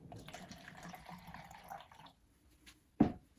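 Water is poured from a plastic cup used as a measuring cup, a faint trickling stream lasting about two seconds before stopping, followed by a single sharp knock near the end.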